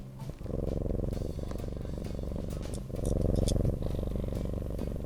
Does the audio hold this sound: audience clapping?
no